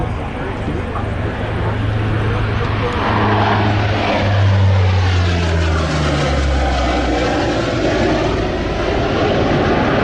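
An RNZAF aircraft makes a low pass at the Wings over Wairarapa 2021 air show and accelerates away, its loud propeller drone rising and then falling in pitch as it sweeps past, with a commentator talking over it.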